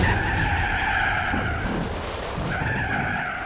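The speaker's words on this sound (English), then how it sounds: "and now we're having a crash." Tires skid and squeal in a car crash during a high-speed run in the Gran Turismo 4 racing game, loud and sustained with engine noise, steady throughout with no talk.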